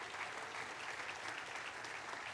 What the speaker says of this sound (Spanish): Vamos a darles aplauso al Señor por ellos.